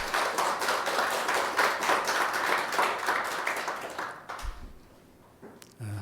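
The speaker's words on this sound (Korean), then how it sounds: "우리 하나님께 감사와 영광의 박수 올려드리겠습니다" Congregation applause during a Sunday church worship service, a dense, steady roar of many hands clapping for about four seconds, then fading out into quiet with a few scattered sounds.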